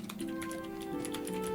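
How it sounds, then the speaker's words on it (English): Someone types on a computer keyboard, soft rapid key clicks running under a steady humming tonal background, with no voices. "That's the guy typing."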